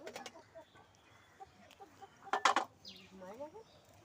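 Chickens clucking nearby while being weighed before slaughter at a rural household, short soft clucks and one louder squawking burst, with people talking in the background.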